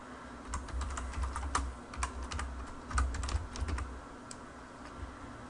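Arduino code goes in on a computer keyboard in quick irregular bursts of nearby key clicks, with short pauses between runs and a faint steady hum underneath, and nobody speaks.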